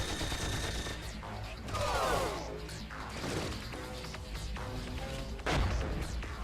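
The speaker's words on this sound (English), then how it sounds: "Fire all weapons." Weapons fire and explosive bursts in the strategy video game Tiny Metal, a dense, continuous barrage with crashing impacts and a heavy hit near the end, sustained throughout.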